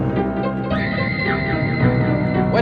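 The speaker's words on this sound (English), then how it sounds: "What you are hearing is almost all MIDI sounds." Synthesized MIDI music from a 4K demo plays, with sustained electronic tones and a sliding whinny-like lead, continuous and fairly loud with no talking.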